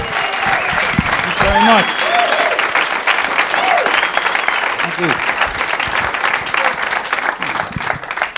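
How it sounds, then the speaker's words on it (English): Audience applause at a comedy show fills the room with dense, steady clapping and some cheering, while someone speaks briefly over it. "A round of applause"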